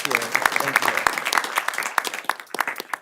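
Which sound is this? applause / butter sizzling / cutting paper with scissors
applause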